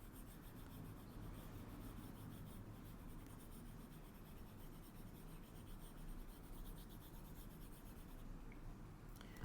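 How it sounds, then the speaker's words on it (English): An eraser rubs across a page of written maths work in steady, soft, continuous scratchy strokes, close up and faint, with no talking. "let me erase first"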